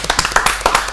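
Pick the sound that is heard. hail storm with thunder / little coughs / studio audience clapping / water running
studio audience clapping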